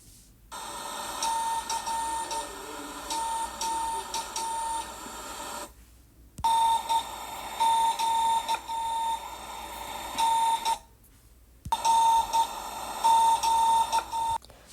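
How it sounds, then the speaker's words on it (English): Steady electronic tones and beeps from an early radio transmitter in three long bursts separated by short silences, buzzing and slightly mechanical, close and fairly loud. "Here's the sound of the first radio transmitter."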